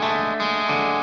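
A sustained, heavily processed guitar chord with reverb, part of a metal mix of a song, ringing loud and dense, with a slight shift in texture partway through and no talk.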